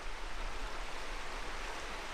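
A river flows beside a campsite, a steady, dense rush of water noise that is continuous and fairly close, with no voices.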